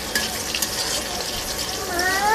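Hilsa fish and potatoes cooking in a pan at home, with a soft continuous sizzle and some stirring or watery bubbling, close and fairly quiet.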